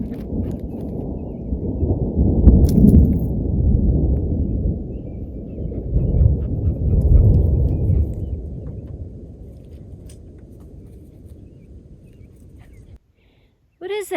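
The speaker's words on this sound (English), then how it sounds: "We are now hearing some crazy thunder." Crazy thunder rolls through a thunderstorm at a Central Oregon campsite, a deep, continuous rumble that swells and churns for several seconds and then slowly fades, loud and enveloping before a brief silence.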